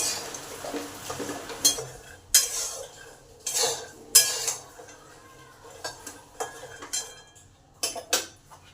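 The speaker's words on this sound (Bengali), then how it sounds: "এই যে আওয়াজ শুনছেন, ফটফট যে আওয়াজ আর আপনা থেকে যে ফেটে যাচ্ছে" Peanuts dry-roasting over low heat in a pan for jaggery laddu, stirred with a utensil: scraping strokes punctuated by sharp, clicking crackles and taps coming in irregular bursts, close and fairly loud, with no talking.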